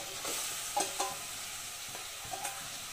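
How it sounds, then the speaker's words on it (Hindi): Marinated chicken hisses and sizzles loudly in hot oil with golden fried onions, a steady frying crackle broken by a few soft stirring scrapes, close and without speech. "इप्पुडु मनम मैरिनेट चेसुकुन्न चिकन नी वेसुकोवाली"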